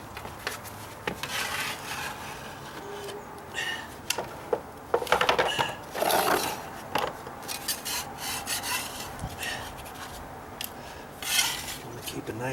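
A scraper rasping old material off wooden deck stairs during dry rot repairs, in repeated close strokes with short pauses between passes.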